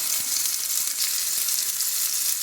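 Deer meat fries in a pan with a bright, constant hiss and sizzle, close and fairly loud, broken by a few soft taps from turning the pieces, with no one talking.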